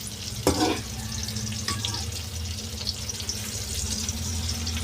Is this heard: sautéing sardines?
yes